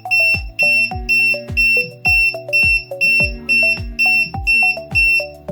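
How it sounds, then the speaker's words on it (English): An MY401 portable 4-gas detector sounds its combustible gas alarm as a rapid, sharp beeping, about two loud, regularly repeating tone bursts per second with no voices. "Concentration exceeds high alarm value. The alarm sound will become rapid and sharp."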